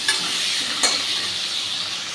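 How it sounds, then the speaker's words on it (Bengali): Potato pieces frying in oil in a pan, a loud, dense, close sizzle that holds steady throughout with a short sharper crackle near the start and another just before the one-second mark. "আমি আলুটাকে ভালো লাল লাল করে ভেজে নিচ্ছি কিছু সময় ধরে।"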